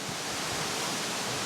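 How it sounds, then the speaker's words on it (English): Ruskebe Waterfall in Kenya pours as a dense, steady broadband roar of falling water, close and continuous with no other sounds. "This place is so windy because water is falling from up."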